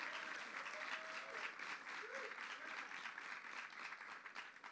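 At an LGBTQ rights bill signing, an audience gives Tom Duane a sustained round of applause, a thick, even roar of many hands with a few faint cheers mixed in, steady to the end.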